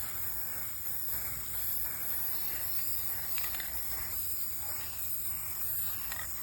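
A spray paint can lays a bright copper coating onto a kitchen decor piece, giving a soft, continuous hiss that runs steadily throughout at low volume.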